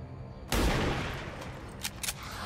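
A sniper rifle fires at a sectoid in the XCOM 2 video game: one loud sharp report with a long rumbling tail, then a couple of faint clicks.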